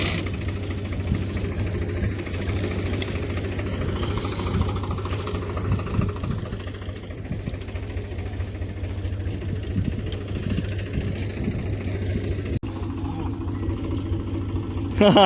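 Tractor engine idling beside a castor bean thresher in a farm field: a constant low mechanical drone with a slight knocking pulse, steady and fairly close, with faint talk in the background.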